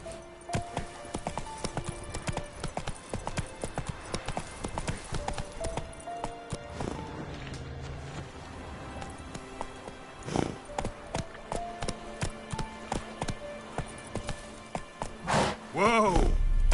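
Roach the horse gallops in The Witcher III, rapid hoofbeats thudding close by over music and game effects, with a sharp whack and a rising neigh-like sweep near the end.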